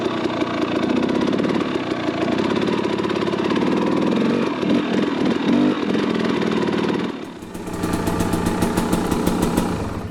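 A dirt bike fitted with a Lectron Billetron Pro Big Air carburetor idles loudly and steadily up close, dipping briefly before settling back into an even, throbbing idle.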